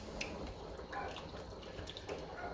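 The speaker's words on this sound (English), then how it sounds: "See what I mean by it bubbling quite fiercely?" A pot of beans bubbling fiercely on the hob, a steady, dense wash of close, watery bubbling and popping with scattered brighter drips, continuous and fairly quiet throughout.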